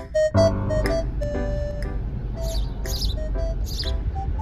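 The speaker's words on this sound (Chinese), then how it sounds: "这只小鸟每天早上都站在这里和我打招呼。" A small bird chirps in the morning, giving short bright tweets and quick high whistles in an irregular series, close by over a low steady rumble, with no talking.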